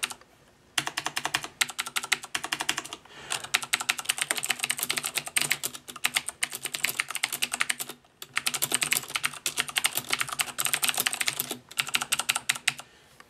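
Rapid clicky typing on a Corsair mechanical keyboard with Cherry MX Blue switches and an aluminum base, close and crisp in long bursts separated by brief pauses.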